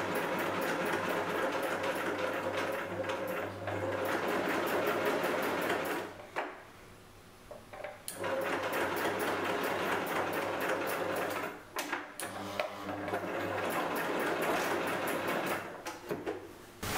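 A sewing machine runs in steady rapid bursts of stitching, pausing briefly twice before starting up again, loud and close.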